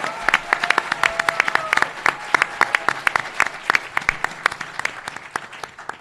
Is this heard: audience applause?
yes